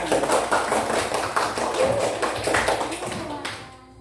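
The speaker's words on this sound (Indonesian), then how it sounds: "Tepuk tangan." A classroom group claps hands together during a primary-school teaching session, a steady burst of many overlapping claps with children's voices mixed in, fading toward the end.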